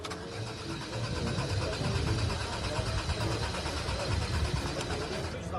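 A new Lada Aura car's starter grinds and cranks at a presentation without the engine catching, a rough continuous churning with faint talk underneath.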